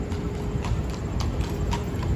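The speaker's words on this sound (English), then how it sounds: "We just have a casual New York City horse cruising around." A horse's hooves clip-clop steadily on a New York City street at a walking pace, moderately close, over a constant hum of city traffic.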